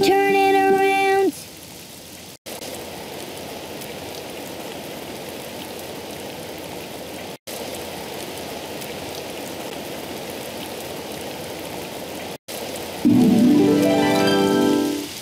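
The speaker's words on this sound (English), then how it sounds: "Oh, it's raining outside." Steady broadband rain hiss fills most of the clip, framed by brief musical tones at the start and end.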